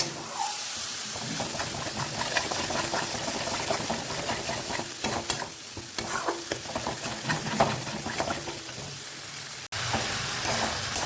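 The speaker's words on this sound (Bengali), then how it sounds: "তো এটা এবারে এর মধ্যে ঢেলে দেবো দিয়ে এবার এটা একটু কষবো" A water-mixed curry masala for a cauliflower, potato and duck egg curry is stirred and sautéed in a pan, with a continuous sizzle broken by rhythmic spatula scrapes close by.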